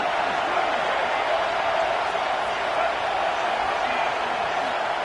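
A steady stadium crowd roars at a constant level in College Football 26, a broad, even wash of massed voices with no clear peaks, filling the whole moment.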